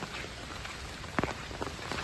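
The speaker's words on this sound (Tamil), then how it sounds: "3 நாளா விடாம மழை பெய்யுது" Steady rain pours down during Cyclone Fengal, a dense, even hiss of drops falling on wet ground and surfaces, quiet and continuous with a few louder splashes near the middle.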